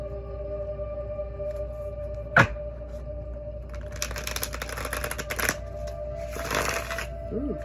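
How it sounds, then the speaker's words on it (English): Tarot cards are shuffled nearby in two or three quick, papery riffling bursts after a sharp click, set against a quiet room hum. "I love it when they shuffle pretty for me."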